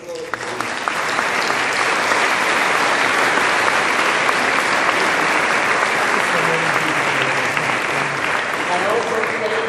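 A large audience at a Nobel Peace Laureates summit ceremony in Rome applauds loudly and steadily for the whole stretch, with a dense wash of clapping and faint voices mixed in.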